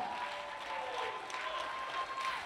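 Applause from a church congregation during a sermon, a continuous wash of clapping at moderate level sustained throughout, with a faint tonal hum running underneath.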